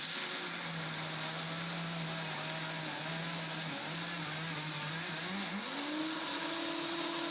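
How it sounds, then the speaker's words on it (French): A Silver Crest 4500W blender robot grinds peanuts into peanut butter at top speed, giving a continuous loud whirring motor drone whose pitch climbs near the end, with no talking. "Le mixeur commence par broyer les grains qui sont en bas et au fur et à mesure, il attire ceux qui sont au milieu."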